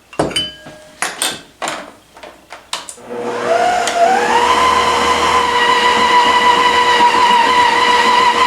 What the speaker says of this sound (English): we're going to add the egg and milk and beat to combine